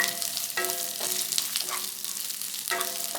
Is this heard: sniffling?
no